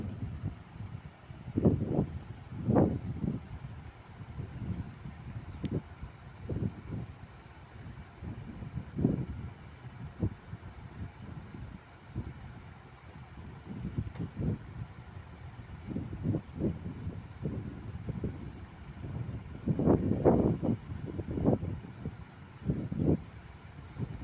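Outdoor wind on a cool morning nature walk, soft gusty rumbles rising and falling against the microphone, fairly faint and steady with no talking.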